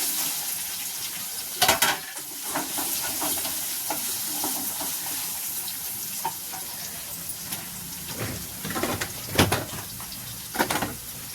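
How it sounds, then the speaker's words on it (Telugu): Beetroot frying in a pan gives a steady close sizzle, with occasional stirring scrapes and clinks throughout. "ఇప్పుడు బీట్రూట్ ఫ్రై చేస్తున్నానండి"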